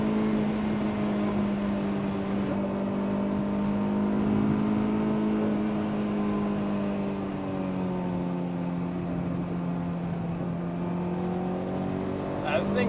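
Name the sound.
Honda S2000 engine revving, VTEC kicking in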